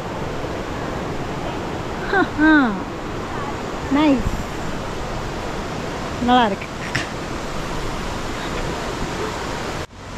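Water flows steadily amid greenery at a Malaysian resort, a constant rushing wash under the whole scene while someone speaks briefly over it a few times.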